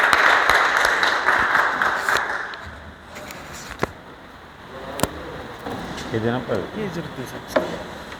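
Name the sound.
audience applause for the store in-charge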